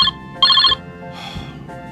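A telephone gives two loud electronic rings close by, and a third, fainter ring cuts in afterward.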